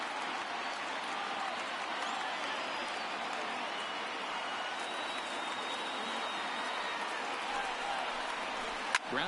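A baseball stadium crowd of over 27,000 at an MLB Rays vs. Padres game rises to its feet, a steady broad roar of cheering and applause sustained throughout, with a sharp clap near the end.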